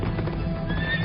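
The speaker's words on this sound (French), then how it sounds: "Je regardai et parut un cheval noir." A black horse neighs over steady clip-clopping hooves, both close and clear, with a high whinny rising near the end and no talking.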